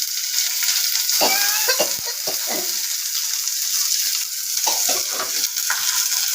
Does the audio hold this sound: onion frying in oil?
yes